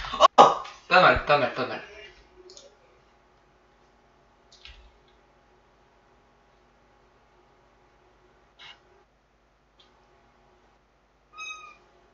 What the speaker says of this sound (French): mini chat.